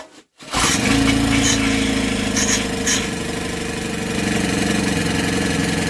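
After a quick pull, a small Honda EM500 portable generator engine sputters to life and keeps running loud and steady, chugging close by with a rough idle.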